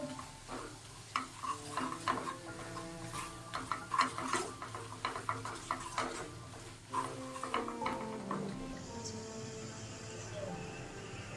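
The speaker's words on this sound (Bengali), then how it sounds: "ভালো করে এরকম নেড়ে নিতে হবে।" Flour being stirred into butter garlic chicken in a frying pan, with a spoon scraping and clicking against the pan in an irregular rhythm over a soft sizzle, close up and fairly quiet.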